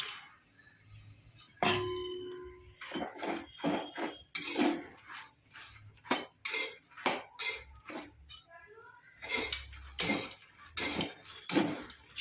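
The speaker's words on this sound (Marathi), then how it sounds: "1 चमचा तूप टाकून घेणार आहे आणि ह्याच्यामध्ये मखाने परतून घेणार आहे छानपैकी." Fox nuts being sautéed in a spoonful of ghee in a pan: a spoon scrapes and clinks against the metal in irregular bursts, close and fairly quiet, with brief faint talk in places.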